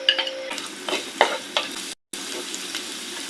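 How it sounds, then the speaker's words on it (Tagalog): Garlic drops into hot oil in a pan and sizzles, with a short close-up stirring scrape and clatter over a steady frying hiss; no one speaks. "Gagawa naman ako ngayon ng konting oil. Add natin yung garlic."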